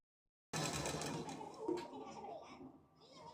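A sewing machine stitches the folded hem of a cotton nighty, starting abruptly and running as a steady close whirring rattle that eases slightly near the end.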